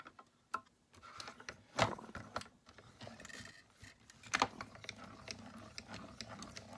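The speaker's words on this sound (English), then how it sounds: "That's just the die going through the rollers." A cutting die passing through the rollers of a mini cut and emboss machine, giving a series of faint clicks and small snaps with soft rolling friction, close and quiet.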